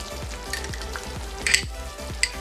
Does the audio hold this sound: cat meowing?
no